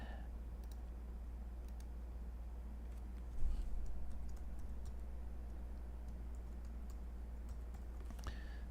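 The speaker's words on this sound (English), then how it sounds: "I'm just typing random here" Someone typing on a computer keyboard entering contact details, quiet scattered key clicks in short bursts over a low steady hum, with no talk.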